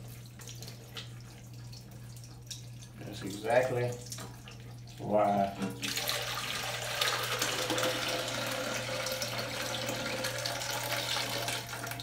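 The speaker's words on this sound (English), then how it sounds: "You see all your water running out your bowl? Y'all hear it?" Water rushes and gurgles as it drains out of a toilet bowl during a repair, with the valve being disconnected. Someone speaks briefly over a steady hum first, then a continuous broadband wash of draining water follows.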